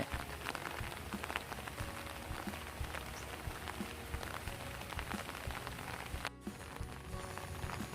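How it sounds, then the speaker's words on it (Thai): Heavy monsoon rain in Mukdahan, Thailand pours steadily onto surfaces, a dense continuous hiss with scattered drips and splashes, constant and close throughout. "ฝนตกแรงมากเลยนะครับ"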